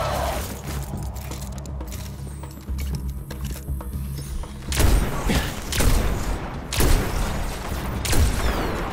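Gunfire in the Destiny video game, heard as several sharp, loud bursts of shots spaced about a second apart over a low, continuous rumbling game backdrop.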